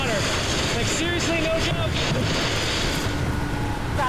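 Rushing river water near a waterfall roars in a constant, dense wash, close and loud, with wind buffeting the microphone and faint voices underneath.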